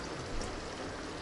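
A steady, rushing stream of water pours into a cooking pot of potatoes without a break, close and even.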